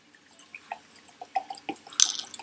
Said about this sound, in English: just pour an half a cup of water in here